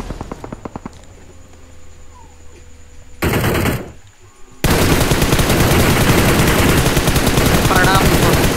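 Rapid automatic gunfire bursts in the mobile battle royale game BGMI, loud and close, with a short sharp volley followed by sustained dense firing that fills the rest of the moment.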